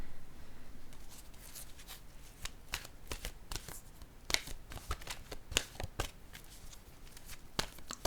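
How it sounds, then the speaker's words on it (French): A deck of oracle cards shuffled by hand, a quiet close run of crisp riffling flutters and sharp card snaps in an irregular rhythm, with no speech. "je vais piger une carte de mon oracle"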